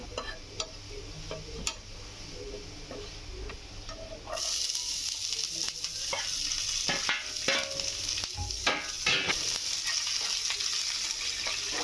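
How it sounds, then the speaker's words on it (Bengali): Chopped garlic and dried red chilies sizzle steadily in hot oil in a pan, a soft crackle that jumps louder partway through and keeps up with scattered pops and stirring clicks, close and without talk. "রসুন আর হচ্ছে শুকনো মরিচটা ভালো করে ভেজে নিচ্ছিলাম একটু ব্রাউন কালার আসার জন্য"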